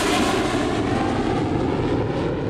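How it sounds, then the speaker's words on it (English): Bombardier CRJ jet engines on a runway, a loud, steady broadband roar that holds without a break for the whole moment, with no talk over it. "With powerful turbulence released from the CRJ, Captain Leslie must keep a safe distance"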